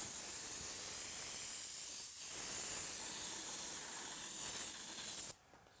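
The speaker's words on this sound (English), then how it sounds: "You can see how much I'm spraying to how fast I'm having to refill my airbrush." An airbrush hisses as it sprays paint onto a drag bike with green flames, a close, steady airy rush lasting several seconds before it abruptly cuts off.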